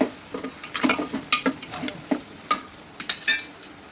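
Potato, green chili and vegetables stirred in a pan for masala bhat, giving a scatter of soft scraping and clinking spoon strokes at an uneven rhythm, close and moderately quiet, with no voices.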